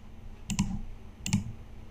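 A computer mouse clicks twice in quick succession, a short pause, then another crisp double click, close and dry against a quiet room background.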